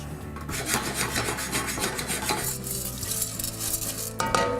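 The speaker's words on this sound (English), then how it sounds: "We'll continue to shake it so it's evenly popped and perfect" Popcorn kernels shaken in a pot on a stovetop give a steady, close scraping and rattling swish with faint sizzling, continuous throughout and alone.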